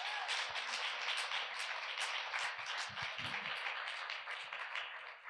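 An audience at a panel discussion on Jewish culture and translation applauds the panelists with steady, dense clapping that fills the whole moment without pause.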